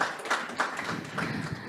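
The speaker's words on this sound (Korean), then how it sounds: "수고해주신 김민지 컨설턴트님께 다시 한번 큰 박수 부탁드리겠습니다." An audience at a workplace-innovation consulting MOU signing ceremony gives a consultant a short round of applause, with close, fairly even rhythmic clapping and almost no talk.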